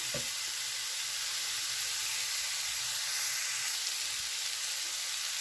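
A steady, bright sizzle of mushrooms and peppers frying in a pan fills the clip, with a brief clack of a utensil at the start.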